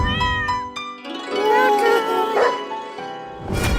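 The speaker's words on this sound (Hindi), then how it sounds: "तुम लोग ये बिल्ली को सोसाइटी में लाया कब?" Cat meowing in a housing society, several high, wavering meows in a row with short gaps, close and fairly loud, with a brief burst of other noise near the end.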